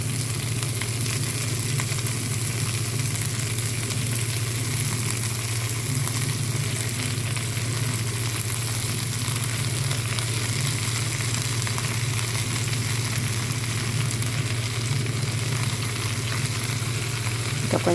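Drumstick (moringa) leaves fry in a pan, giving a steady, dense sizzle that holds at an even loudness throughout, with no voices heard.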